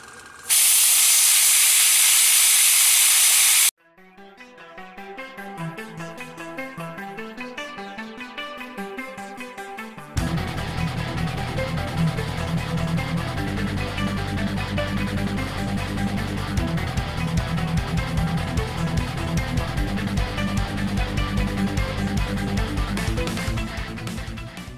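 Airbrush spraying thinned XV88 paint onto dungeon wall bricks, a steady hiss with brief bursts through the middle of the clip, mostly under music.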